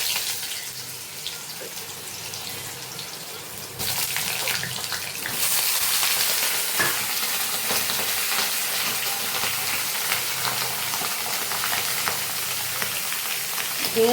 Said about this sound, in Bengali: ঝিঙেগুলো দিয়ে একটু নাড়াচাড়া করে একটু ভাজবো